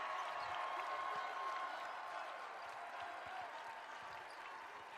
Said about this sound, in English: The crowd on its feet in recognition of their school's star athlete.